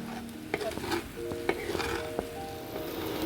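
Ghee sizzling in a pan with sabudana khichdi, a steady close frying hiss with occasional spoon scrapes and stirring knocks against the pan.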